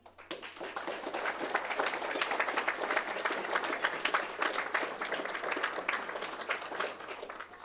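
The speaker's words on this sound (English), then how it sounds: "So please applaud for our Coaches of the Year." An audience at a parks, recreation and trails commission meeting applauds its Coaches of the Year: dense, steady clapping fills the whole stretch at a fairly loud, even level over a faint low hum.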